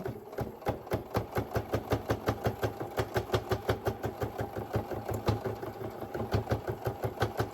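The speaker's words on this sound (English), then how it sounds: "Do you hear how it's really puncturing that fabric?" A sewing machine drives a new, sharp needle through folded batting and two layers of quilting cotton, producing a close, fast, evenly spaced thumping of stitches, about five per second, that continues steadily throughout.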